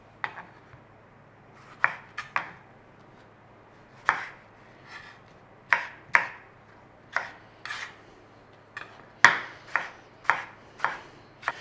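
Knife chopping food on a board while preparing a British sausage pie: crisp, close, irregular strikes in small bursts of two or three, separated by pauses and light scraping.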